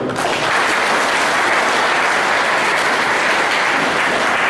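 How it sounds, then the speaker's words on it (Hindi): Steady, loud audience applause at an induction program, dense and continuous from start to finish with no voices. "तो जोर से तालियां हो जाओ।"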